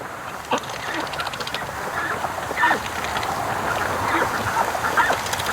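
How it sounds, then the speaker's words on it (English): Scattered quacks and honks from ducks by a windy lake, including Muscovy ducks, rising over steady wind noise in short irregular bursts at moderate distance. "What a cute little duck."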